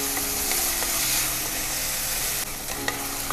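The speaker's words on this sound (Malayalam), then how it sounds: "ബാക്കിയുള്ള തക്കാളിയും ആ വേപ്പിൻ്റെ ഇലയും കൂടിയിട്ട് ഞാൻ അത് ഇട്ട് കേട്ടോ. എന്നിട്ട് അതും ഇതേപോലെ ഒരു മിനിറ്റ് ഒന്ന് വഴറ്റുക." Tomato and curry leaves sauté in a pan, a dense steady sizzle with soft scraping as they are stirred, close and alone, easing slightly near the end.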